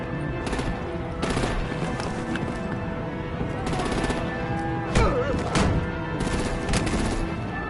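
Artillery gunfire in a Batman video game, dense rapid bursts of shots layered over a continuous noisy backdrop of battle, with loud cracks punctuating the middle and speech faintly mixed in.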